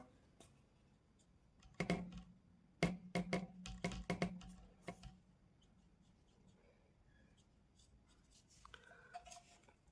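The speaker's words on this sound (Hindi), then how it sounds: "लाइन की इक्वेशन लिख लेंगे इधर" Marker or chalk strokes on a board while an equation is written, a burst of sharp taps and scratches over about three seconds, then scattered faint strokes, close and moderately loud with no talk.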